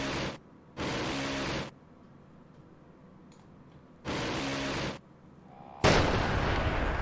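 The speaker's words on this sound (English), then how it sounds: "There's a gunshot." Gunfire in the naval and air warfare game Command: Modern Operations: loud broadband bursts, two at the start and another near the middle, then a final sustained blast at the end over quiet background.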